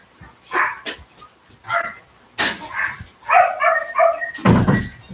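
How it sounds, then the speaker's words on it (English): Several dogs bark loudly and close by in a run of sharp, repeated barks with a few yips and whimpers mixed in, overlapping one another. "You can't hear for the dogs."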